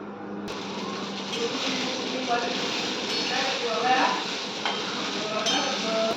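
Flattened rice (poha) tipped in by hand and stirred in a pan, giving a continuous soft rustling scrape with faint metallic clinks, heard under steady talking.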